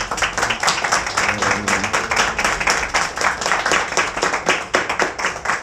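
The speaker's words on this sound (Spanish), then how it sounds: "Y pues también un aplauso para nuestras invitadas" An audience at a special documentary film screening applauds continuously, a dense, loud wash of many hands clapping without a break.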